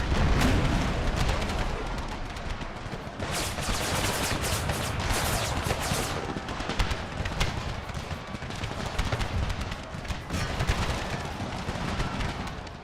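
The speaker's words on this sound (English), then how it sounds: "Let's hit that howitzer with our Napoleon cannons." Napoleon cannons and artillery fire on a howitzer in a Civil War battle in Empire: Total War, a dense, continuous barrage of overlapping booms and musket crackle at steady loudness, with no voices.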